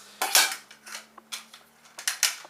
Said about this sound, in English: another little small cooking pot that I can boil water in